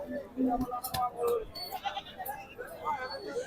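Sheep bleat at a busy rural livestock market in Hazratpur, several short calls mixed with people talking and crowd noise.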